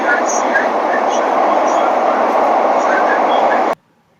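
A Mumbai metro train rolls steadily into Santacruz station, a loud continuous rumble with faint squeals above it that cuts off abruptly near the end.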